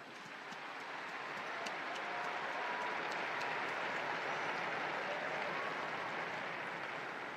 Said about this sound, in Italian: Un applauso ai nuovi beati.